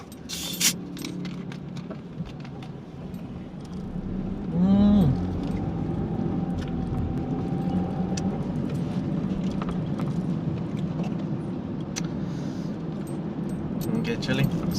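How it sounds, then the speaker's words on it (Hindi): A car idles at a traffic signal in Kuala Lumpur, with a steady low engine hum and surrounding street traffic throughout, plus a brief louder swell and a few light clicks and rattles. "अभी सिग्नल पे गाड़ी रुकी है"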